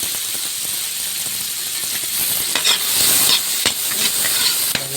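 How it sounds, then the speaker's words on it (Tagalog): Garlic and onion sautéing in margarine in a pan, a steady bright sizzle and hiss with occasional stirring scrapes and sharper crackles, heard up close with no talking. "Gisahin na po natin yung ating mga sangkap"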